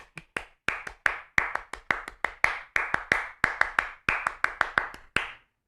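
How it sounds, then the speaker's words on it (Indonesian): Rhythmic Indonesian scout (Pramuka) clapping pattern: about twenty sharp, close hand claps in grouped bursts with short pauses, ending on a final single clap, with no voices. "tepuk pramuka."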